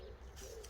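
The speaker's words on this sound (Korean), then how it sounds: "산비들기" An oriental turtle dove coos outdoors in one short, low, soft note, moderately distant against steady background ambience.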